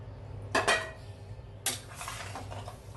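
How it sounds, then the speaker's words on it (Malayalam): A spoon knocks and scrapes against a pot as mutton kurma is stirred, two clear clattering bursts of metal contact over a quiet background, close by and without speech. "ഇട്ട് കൊടുത്തതിന് ശേഷം നമുക്ക് നല്ലതുപോലെ ഒന്ന് ഇളക്കി കൊടുക്കുക"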